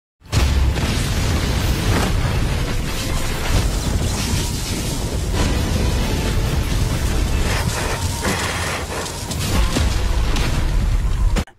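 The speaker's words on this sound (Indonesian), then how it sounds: "melampiaskan kekesalannya dengan menghancurkan daratan es di bawahnya" In an animated series, a blast shatters the icy ground, producing a dense, sustained roaring rumble full of crashing debris that holds loud for over ten seconds before cutting off.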